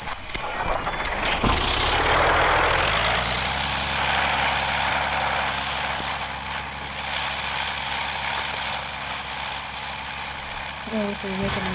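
Plane engine in the Roblox Mad City video game, a loud continuous propeller drone that starts up and holds steady, with a high whine and occasional game effects over it.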